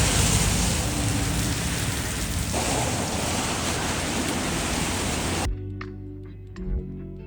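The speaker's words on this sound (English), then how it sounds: "it's just heavy rain here" Heavy rain in New Orleans makes a dense, loud, steady downpour hiss for about five seconds, then it cuts to a quieter scene with faint scattered sounds.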